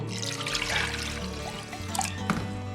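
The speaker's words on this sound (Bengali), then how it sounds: "প্রথমে পাঠার টেংরি দিয়ে দিলাম কিছুটা জল" Water poured from close range into a pot of goat trotters for soup, a continuous splashing trickle with a few brighter drips and clinks over a low background hum.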